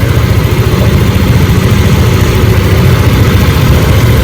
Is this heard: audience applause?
no